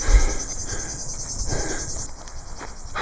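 Large cicadas in Plovdiv, Bulgaria, give a continuous high, shrill buzzing at moderate distance, steady throughout with light outdoor rustling beneath.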